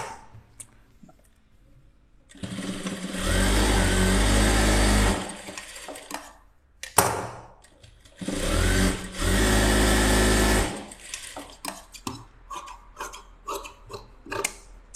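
Sewing machine stitching a blouse in two close, loud bursts of rapid whirring, each lasting a few seconds, separated and followed by quieter handling clicks and fabric rustle, with no talking.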